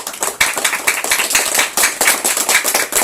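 A congregation claps together at a family prayer gathering, a dense, loud patter of many hands filling the room without pause.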